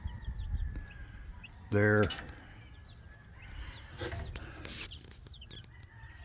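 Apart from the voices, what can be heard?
game hens and other chickens clucking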